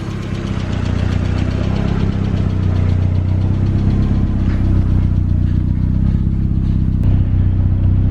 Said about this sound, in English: Still a tiny bit of lifter tick,